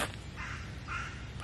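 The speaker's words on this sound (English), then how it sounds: "Birds." Two harsh crow caws ring out close and loud on a seaside island with woods, separated by a short pause, against a steady outdoor background.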